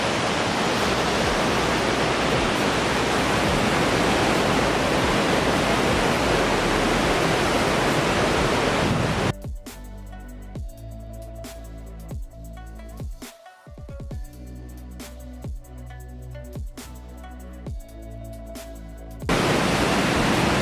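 A waterfall in a Sri Lankan forest roars as a loud, close, broadband rush. Around midway it cuts to a much quieter passage with faint tonal sounds, then the full roar returns near the end.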